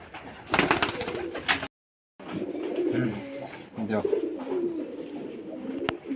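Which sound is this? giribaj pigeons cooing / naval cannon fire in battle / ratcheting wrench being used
giribaj pigeons cooing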